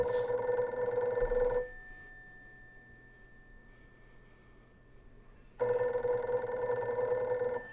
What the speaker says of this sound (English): What's that ringing? What year is that? Do we even know what a rotary phone is?